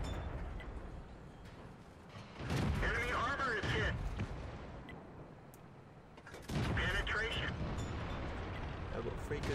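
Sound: tank gun shots, video game tank battle

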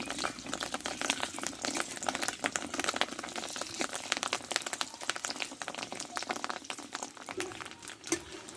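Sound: fish roe fritters frying in a pan

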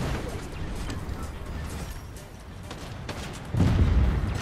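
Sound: tank firing in the video game Fortnite

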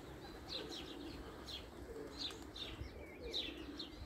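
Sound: pigeon cooing

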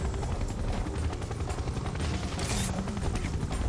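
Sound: helicopter in the video game Serious Sam 3: BFE

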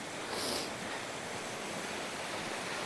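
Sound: waterfall in the Lake District

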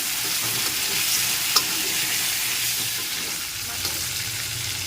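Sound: cauliflower pieces frying and being stirred in a pan

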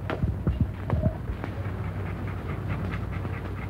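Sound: dog panting in a gift box

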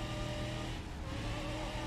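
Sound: car engine revving, wheels spinning in fourth gear, BeamNG.drive video game

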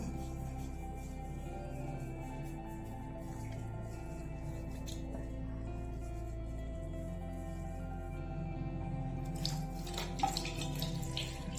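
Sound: water running while washing face

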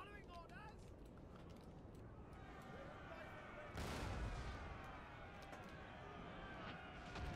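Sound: musket volley gunfire in Napoleon Total War video game

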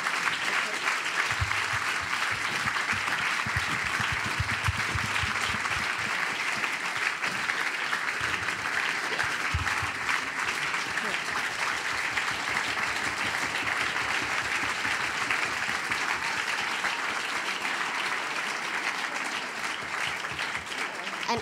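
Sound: audience applause after a talk

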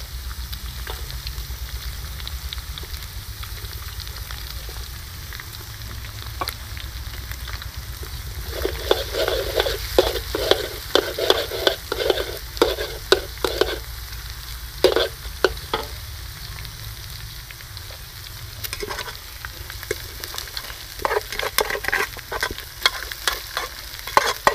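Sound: stir-frying beef fried rice over a charcoal stove

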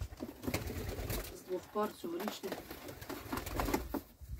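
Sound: yellow Czech show pigeons cooing in new loft

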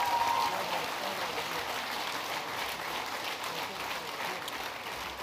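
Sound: applause at a sports awards

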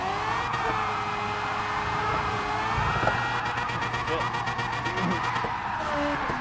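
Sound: car engine revving at high RPM in Gran Turismo Sport video game

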